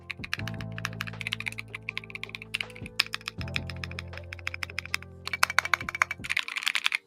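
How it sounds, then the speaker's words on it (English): Rapid, crisp clacking of a computer keyboard being typed on, with fast irregular keystrokes picked up by a nearby microphone. A few heavier thunks mix in, and no voices are heard. "let me unplug the keyboard real quick so we can listen to it"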